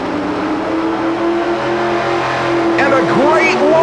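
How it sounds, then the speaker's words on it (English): A loud naturally aspirated engine of a 4WD pulling truck roars steadily and climbs in pitch as it launches at a truck pull, with a voice talking over the din. "A great launch for Christensen."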